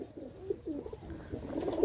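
Soft, low pigeon cooing repeats in short throaty phrases, close by and fairly quiet against faint background noise.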